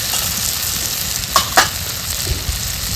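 Spices and tomato fry in a pan with Kashmiri chili powder, giving a steady close sizzle with a few soft stirring scrapes.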